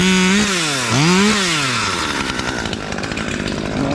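A Husqvarna T540XP Mark III arborist chainsaw revs loudly up and down close by, its engine pitch swooping several times before settling into a rough, sustained cutting drone as the chain bites into wood.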